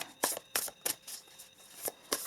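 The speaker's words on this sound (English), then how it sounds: "let me see what else I have to say while I shuffle." Beautiful Creatures tarot deck being shuffled by hand: short, crisp riffling bursts in an irregular rhythm, close and clear, with no voices over them.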